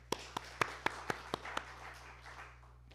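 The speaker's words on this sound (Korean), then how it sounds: "두 분께 큰 박수 부탁드립니다." Sparse handclaps at a church service, about seven distinct claps in an even rhythm that fade out, fairly close and with no speech over them.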